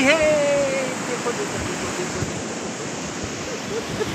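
Sea waves roll onto the beach at Navapur, a broad, steady wash of surf with wind rumble on the microphone, while a voice calls out briefly near the start.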